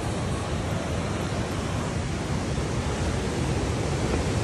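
Mountain waterfall with snow on the Rupin Pass trek in October, a dense, continuous roar of falling water, loud and steady without pause and no voices.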